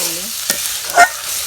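Banana stem is stir-fried dry in a pan, with two quick scraping strokes of a spatula over a faint hiss, the second stroke louder, close up and alone.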